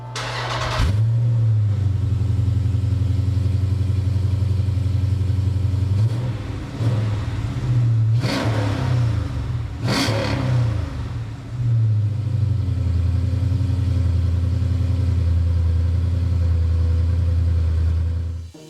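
A 2018 Jeep SRT fitted with a K&N intake cranks and fires up, then settles into a loud, deep idle broken by a couple of sharp throttle blips and revs before it steadies again, close and continuous with no talking.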